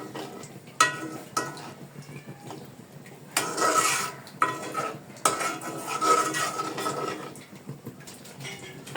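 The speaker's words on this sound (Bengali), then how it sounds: "এখন আমি চামচ দিয়ে চারদিকে সমানভাবে নেড়ে দেব।" A spoon stirs thick mutton haleem in a pot, giving soft scraping and intermittent metallic clinks against the sides, close and fairly quiet, with no talk.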